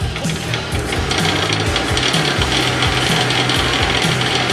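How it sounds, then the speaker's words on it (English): Eighty-grit sandpaper rubs against a wooden block spinning on a lathe at full speed, giving a continuous loud rasping hiss over a steady motor drone with rhythmic low thumps from the rotation. "hold the sandpaper behind your block and lightly smooth the surface of the block"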